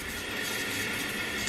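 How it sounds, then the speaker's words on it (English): Steady, dense rush of water flowing from a shower through a 15-stage shower water filter, a loud, even hiss with no pauses and no voices. "let me actually do a quick test and turn on the water to show you guys what it sounds like with the water on"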